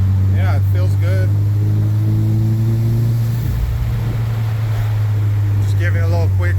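A Subaru fitted with a new AEM 3.5 bar MAP sensor and jumper harness drones steadily at low speed, its engine hum constant throughout, with someone talking over it near the start and end.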